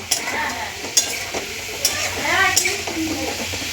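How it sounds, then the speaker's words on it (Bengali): Potatoes frying in oil give a busy, crackling sizzle, with occasional clinks of a spatula or spoon stirring the pan. "আলু ভাজা হচ্ছে আর একটু লাল করে নেব"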